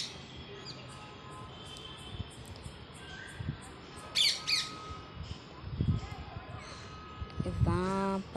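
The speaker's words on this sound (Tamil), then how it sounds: "தூரத்தில் தள்ளி ஒரு கிளியும் சாப்பிட்டுட்ருக்காங்க" A parrot squawks in short, sharp bursts while feeding outdoors, mixed with other bird calls over steady insect-like background noise, with a louder cluster of calls near the end.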